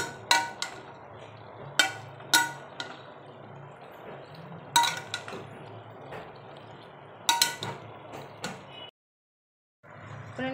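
A metal utensil clinks against a pot while chicken with turmeric is stirred and fried: a few sharp, bright knocks spaced every second or two over a low sizzle, close and fairly loud.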